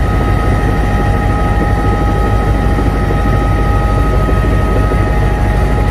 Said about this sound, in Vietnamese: Chỗ mình này là có mấy cái trực thăng này anh?